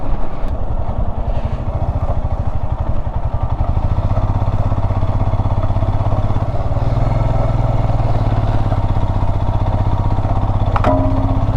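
A motorcycle loaded with luggage on a rough, stony mountain trail near Shinkula in the Zanskar region, its engine chugging steadily and close, with brief clattering knocks from stones striking the underside.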